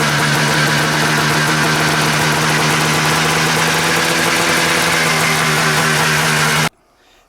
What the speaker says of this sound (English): see if we can get this sled to fire just off of the fuel that's there